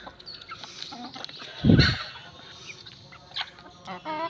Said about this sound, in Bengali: আর আমার এখানে কালো মুরগি বেশি